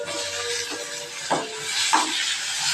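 Tomatoes hit a pan of lightly sautéed ginger and garlic, giving a steady, bright sizzling hiss close up, with a few soft clinks of a spoon against the pan.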